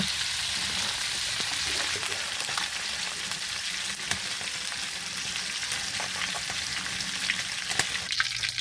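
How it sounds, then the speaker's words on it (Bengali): Fish frying in oil in a pan over a clay stove, a close, constant crackling sizzle with scattered sharper pops and a few light utensil knocks, no speech. "এপাশে মাছ ভাজি করা হচ্ছে"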